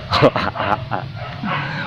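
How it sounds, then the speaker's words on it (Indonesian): A dog barks and yips in a village setting, a few short close barks heard with someone talking over them. "anjing gonggong kok"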